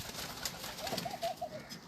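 Soft pigeon coos repeat in a short series over a steady outdoor background hum, fairly close and moderately loud.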